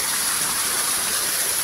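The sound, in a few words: flowing water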